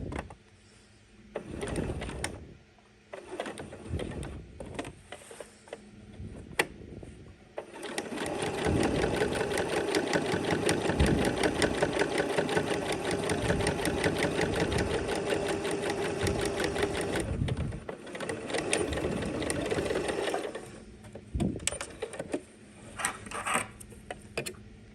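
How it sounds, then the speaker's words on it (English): A sewing machine topstitches around an 18th-century-style fabric pocket opening. It runs in a long, steady, close buzzing stretch, with short start-and-stop bursts before and after. "we have top stitched all the way around our pocket opening"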